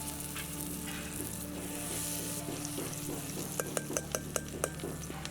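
Soft, steady sizzling of mint and coriander frying in a tempering oil, ending with a quick run of five or six sharp spoon clinks against the pan.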